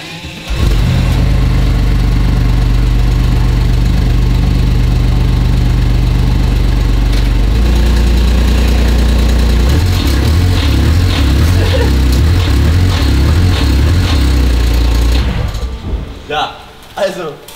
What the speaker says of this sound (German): Und ich schalte mal den Benziner dazu.